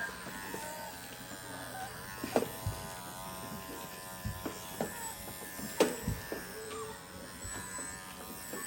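Electric clippers buzz steadily up the back of a schnauzer puppy, a close, continuous hum broken by small knocks and clicks as the blade moves through the coat.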